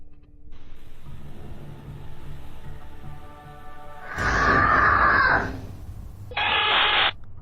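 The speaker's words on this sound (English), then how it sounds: "Then a loud scream pierces the air, sending the little girl running for mommy." A loud scream erupts in a toddler's room, caught on a home nanny camera, as a harsh burst lasting about a second followed by a shorter second cry over steady low background hum.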